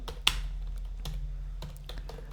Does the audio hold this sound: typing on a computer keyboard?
yes